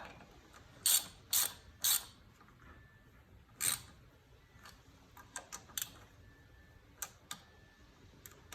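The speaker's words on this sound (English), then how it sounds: "switch to my ratchet. I need extension." Ratchet wrench with extension turning a bolt on a Honda/Acura power steering pump pulley, giving sparse quiet clicks and a few sharper bursts of ratcheting spread irregularly across a quiet background.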